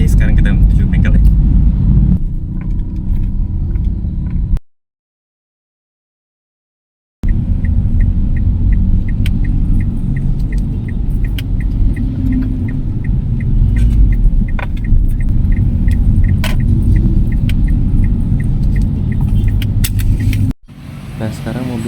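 A Mitsubishi Xpander rolling along a city road on the way to a repair shop, with a steady low rumble of engine and tyres heard from inside, a brief dropout midway and faint rattles over it.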